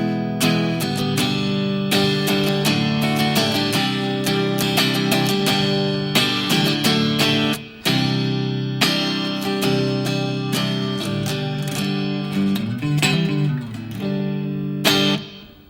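Electric guitar through an amplifier's clean channel, a continuous stretch of bright chords and single-note blues phrases with clear attacks and ringing sustain, close and steady with no talking.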